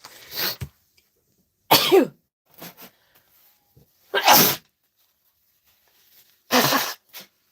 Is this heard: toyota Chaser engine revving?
no